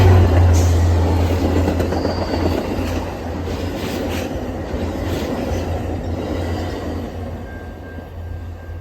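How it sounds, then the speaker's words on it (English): A Metra express train bound for Antioch rushes through a station without stopping, a loud steady roar of wheels on rail with rhythmic clatter and faint squeals, gradually easing as it passes. "like this express train to Antioch, which is bypassing O'Hare Transfer."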